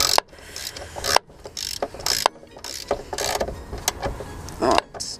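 A belt tensioner being tightened on a MINI Cooper R53 engine produces ratcheting clicks and metallic rubbing in irregular bursts up close. Brief pauses fall between the working strokes.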